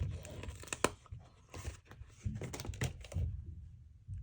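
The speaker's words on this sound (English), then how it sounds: "So we're just going to stick the stickers on." Plastic stickers being peeled and pressed by hand onto plastic baseball-hat party cups, giving close crinkly tearing and tapping sounds in irregular bursts, with no talking.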